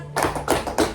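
Three sharp group hand claps in a counting game during a counselling session, evenly spaced and close.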